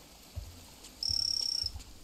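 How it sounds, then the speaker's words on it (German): A frog croaking near water in the jungle survival game Green Hell, with a few deep low croaks and a brief buzzing trill, fairly quiet with no talk. "Frosch, ey. Dreht er mir ins Ohr."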